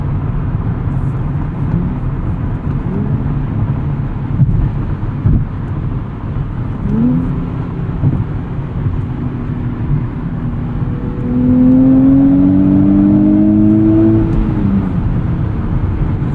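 A 2023 Nissan Z engine hums under load from inside the cabin, then swells louder as the turbo boost comes in with rising whirring tones, steady and close with no talking.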